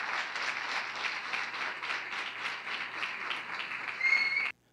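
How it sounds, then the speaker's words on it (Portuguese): An audience applauds to welcome students playing prosecution and defense in a mock jury trial, a steady, moderately distant wash of many clapping hands that builds briefly near the end and then stops abruptly. "Vamos receber com a salva de palmas."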